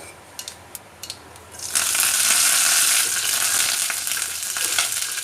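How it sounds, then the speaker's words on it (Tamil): Mustard seeds and fenugreek splutter in hot coconut oil for Kerala rasakalan, starting with a few pops and then bursting into loud, dense, continuous crackling. "இப்போ இதில் தேங்காய் எண்ணெய் விட்டு கடுகு சேர்த்துக்கலாம். கடுகு புரிஞ்சாச்சு."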